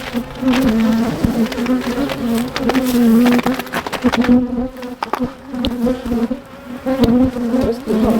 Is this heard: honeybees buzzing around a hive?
yes